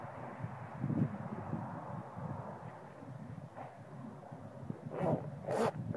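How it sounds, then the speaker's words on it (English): A bee suit zipper drawn around while suiting up for wasp nest removal, heard as a few short raspy zips near the microphone, the loudest bursts coming near the end over a steady background hiss. "Bring that zipper around."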